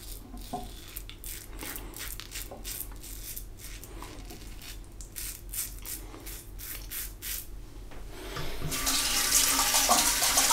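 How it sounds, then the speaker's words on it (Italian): Hot water runs steadily from a tap as a Gillette razor is rinsed under it in a bathroom sink during a wet shave, a continuous close splashing hiss that swells louder and brighter near the end. "E ogni volta che io sciacquo il rasoio con l'acqua calda"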